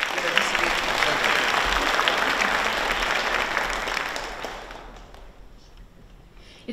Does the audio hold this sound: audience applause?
yes